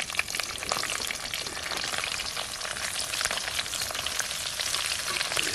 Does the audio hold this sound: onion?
yes